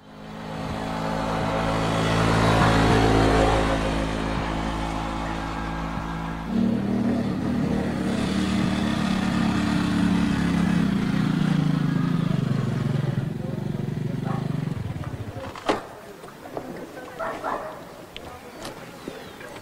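A motorcycle rolls into a film scene with a loud, close engine rumble that changes character partway through, then cuts off. Dogs bark and voices follow in the quieter tail.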